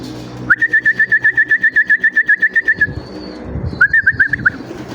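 Racing pigeons cooing nearby in a loft: a long rapid train of soft rhythmic pulses, a pause, then a shorter burst, with faint background noise.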